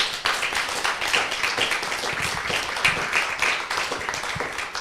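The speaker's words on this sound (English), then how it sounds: "So give a round of applause to the two authors" An audience gives a round of applause for two authors, Melissa Chan and Badiucao, with dense, sustained clapping at fairly close range that holds an even level throughout, with no talk over it.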